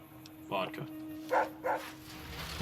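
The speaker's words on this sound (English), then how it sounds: "That's my dog's vodka alarm." A pet dog named Rex gives a few short barks in quick succession close by, over a quiet steady hum, with game sounds faintly in the background.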